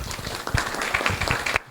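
Audience at a township council by-election candidates forum gives a short round of applause, a moderate patter of many hands with a few sharper claps, cutting off abruptly at the end.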